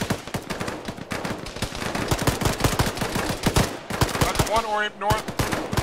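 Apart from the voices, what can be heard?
enemy gunfire in a military video game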